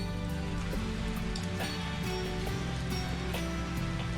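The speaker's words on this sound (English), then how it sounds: "It was raining that day, just like today." Steady rain sound effect from the visual novel game Kira Kira, a continuous dense patter of drops on a surface with faint watery rushing, even in level throughout and heard alone with no voices.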